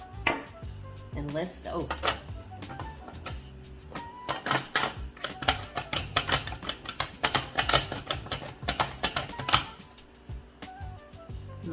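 A knife chops fresh garden cucumbers on a cutting board, trimming the tips and ends in a quick run of crisp, close taps and knocks, with a short spoken phrase.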